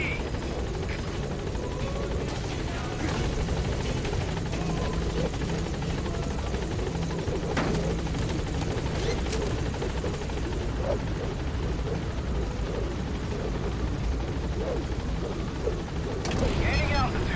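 The Pequod support helicopter arrives at a landing zone in Metal Gear Solid V: The Phantom Pain, its rotor drone loud and steady throughout, with a person talking over it.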